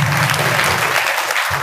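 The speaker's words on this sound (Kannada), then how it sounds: "ಒಂದ್ಸರಿ ಜೋರಾಗಿ ಚಪ್ಪಾಳೆ ತಟ್ಟಾರ ಕಟ್ಕೊಂಡು" A crowd at a talk or lecture gathering claps loudly all at once, a brief dense burst of applause from many hands, close and filling, with no voices over it.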